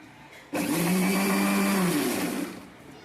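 A mixer grinder grinding tomatoes whirs loudly for about two seconds, starting abruptly and winding down, with a steady mechanical drone.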